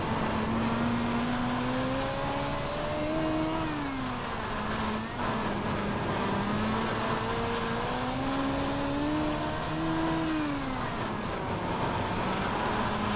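A dirt midget race car in iRacing at Fairbury runs under steady throttle, its engine a continuous droning whine that rises and falls in pitch as the throttle is fed in and eased off, loud and constant throughout.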